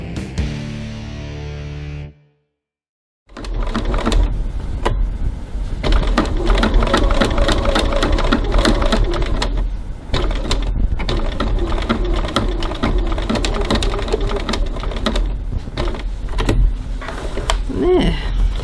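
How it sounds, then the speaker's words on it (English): A sewing machine top stitches along the top edge of a piped bag. It starts after a brief silence and then runs close and loud in stitching bursts separated by short pauses. "we're going to go over to the sewing machine and we're going to top stitch around this top edge"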